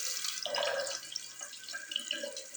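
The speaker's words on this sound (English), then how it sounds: "Running freaking water." Water runs steadily from a tap inside an abandoned maximum-security prison cell, a close splashing stream with no voices over it.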